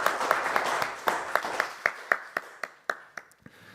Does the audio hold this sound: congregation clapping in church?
yes